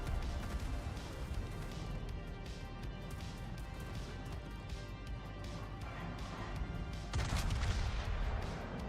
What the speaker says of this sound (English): Yep, there go the torpedoes.